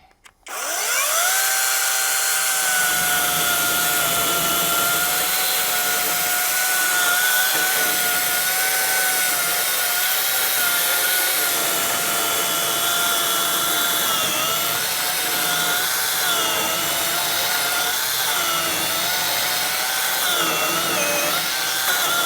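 A SHIDOKU SH PG2 12-inch cordless telescopic pole chainsaw runs continuously with a high, steady electric whine whose pitch wavers slightly as it bites through a branch.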